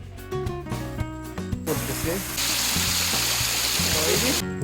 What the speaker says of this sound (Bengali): এখানে রয়েছে একটি কৃত্রিম ঝর্ণা বাঁশবাগানের ভিতর দিয়ে এই ঝর্ণাটি প্রবহমান